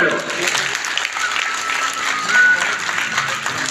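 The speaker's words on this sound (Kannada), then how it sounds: "ಬನ್ನಿ ತಮ್ಮ ಗಟ್ಟಿಯಾದ ಜೋರಾದ ಚಪ್ಪಾಳೆ" An audience at a road safety day event claps steadily for several seconds, a dense, even wash of applause from a crowd.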